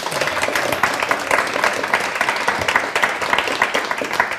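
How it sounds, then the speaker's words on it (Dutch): Warm applause from a studio audience at a Dutch television talk show, a dense, steady round of clapping that fills the whole stretch at an even, fairly loud level with little talk. "Mag ik een warm applaus, Jannie van der Heijden."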